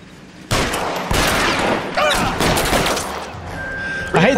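Shootout gunfire in the LA Noire video game, a few sharp pistol shots in quick succession with game voices and effects around them.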